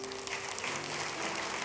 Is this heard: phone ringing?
no